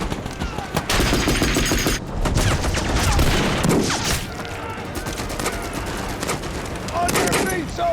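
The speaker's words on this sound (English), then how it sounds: "shoot on that ridge!" Dense gunfire and rattling machine-gun bursts fill a war-film battle scene set on D-Day, with near, continuous volleys running throughout and voices shouting over the din.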